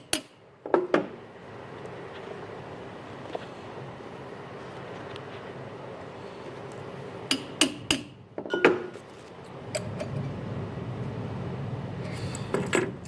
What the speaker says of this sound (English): all I'm doing is putting a little pressure on the screw and then tapping the puller